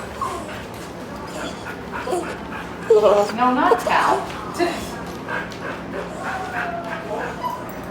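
Dogs yip, whimper and bark in short bursts during a dog-to-dog meet, loudest around the middle, while people talk over them nearby.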